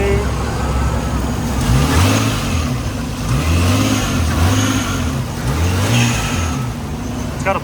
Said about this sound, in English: it's got a blow-off valve, so you can really hear that